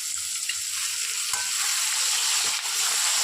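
Tomato, capsicum and onion frying in a pan as soy sauce is poured in, a steady close sizzle with a few stirring scrapes and taps, no talk.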